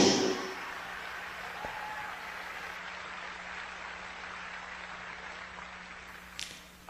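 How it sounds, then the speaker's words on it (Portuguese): A church audience applauds a preacher in a steady, dense wash of clapping that holds evenly for several seconds, loud and close, with little else standing out. "Eu não sei porque vocês estão aplaudindo"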